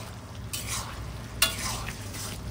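Catla fish pieces being stirred into a simmering chilli fish gravy, with two soft scraping sweeps of a spoon and a sharper clink against the pan over a low bubbling simmer, close and fairly quiet.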